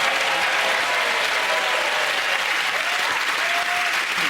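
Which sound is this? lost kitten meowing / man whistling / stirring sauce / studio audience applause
studio audience applause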